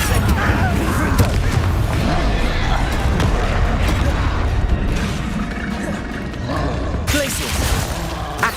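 Repeated Confringo blasting-spell explosions from Hogwarts Legacy boom loudly through dense game combat noise, with a fresh blast near the end and a voice talking over the fight.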